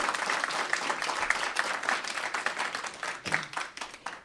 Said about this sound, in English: Let's have a round of applause for Tommy, LeVar, Shad, and Danny.